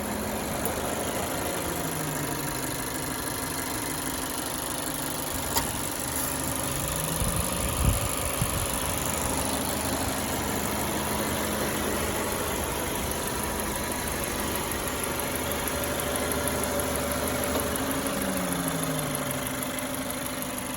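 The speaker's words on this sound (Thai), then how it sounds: "เดี๋ยวเรามาฟังเสียง ห้องเครื่องกันสักพักหนึ่งนะครับผม" A 2018 Mazda2 with a 1.3 Skyactiv-G petrol engine idles steadily under an open hood, a smooth, even hum with a faint whine, continuous and close-up with no voices.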